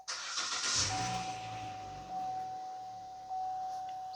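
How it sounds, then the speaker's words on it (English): A 2014 Chevrolet Sonic 1.8 engine cranks briefly and catches, then settles into a steady idle with a faint high whine running through it. The whole start is captured close up, and no one speaks. "going to start the vehicle"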